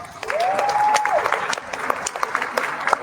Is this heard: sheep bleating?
no